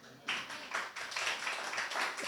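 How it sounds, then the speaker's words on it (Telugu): Congregation at a Sunday church service clapping hands loudly, a dense burst of many hands in uneven waves that begins sharply and carries on steadily to the end, with no talk over it. "గట్టిగా చప్పట్లు కొడదామా?"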